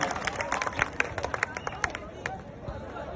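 A crowd at a rally applauding to welcome Harsh Chhikara, with quick scattered claps over a background of murmuring voices and general hubbub, moderately close and steady for a few seconds.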